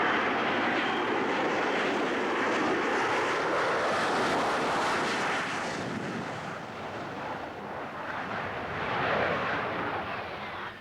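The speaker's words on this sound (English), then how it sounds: "flying a Harrier is, quite simply, something else" A Harrier jump jet at an air show, its engine a broad, loud roar that holds steady, then eases and swells again as the aircraft passes, with wind buffeting the microphone.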